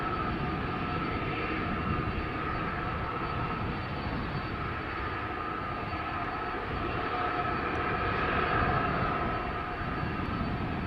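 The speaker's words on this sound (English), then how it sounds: "Third airplane coming this way," A British Airways Airbus A320neo departing Amsterdam Schiphol Airport gives a steady, loud jet engine roar that holds evenly throughout, with no talk over it.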